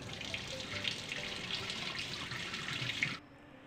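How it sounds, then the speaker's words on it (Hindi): Water pours steadily from a tap into a washing machine drum, a close, constant hissing splash that runs for about three seconds and then stops abruptly, leaving a quiet room. "पहले हमें मशीन में पानी भर लेना है"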